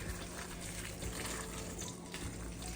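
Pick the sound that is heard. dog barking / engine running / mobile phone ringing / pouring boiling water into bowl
pouring boiling water into bowl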